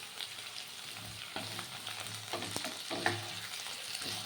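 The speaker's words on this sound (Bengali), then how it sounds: "এবার একটুখানি তেলের ওপর হালকা নাড়াচাড়া করতে হবে" Crushed ginger frying in oil while stirred makes a continuous quiet sizzle, broken by soft scraping strokes of a spatula against the pan, close and on its own without voices.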